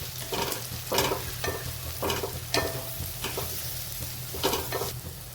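A spoon stirs kitchen king masala, turmeric and salt in a pan for paneer bhurji. Several distinct scraping strokes fall at an irregular rhythm over a low, steady sizzle, close and fairly soft.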